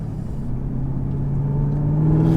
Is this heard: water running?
no